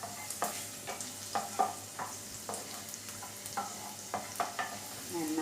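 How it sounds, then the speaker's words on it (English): Cashew nuts sauteing in a pan, with a quiet, steady background sizzle broken by repeated short scraping and stirring clicks every half second or so, fairly close and moderately soft, with no talking. "Saute the cashews nicely till they are slightly brown in color."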